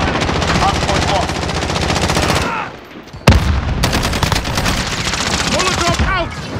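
Dense, loud automatic gunfire from a Call of Duty Modern Warfare multiplayer hardpoint match rattles almost continuously, with one short lull and a heavy blast midway.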